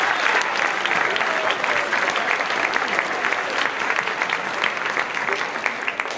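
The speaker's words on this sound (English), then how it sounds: "let's give them a big round of applause" Steady, dense applause fills a school auditorium after a spring middle-school band concert, a large audience clapping continuously and evenly at close range for the whole stretch.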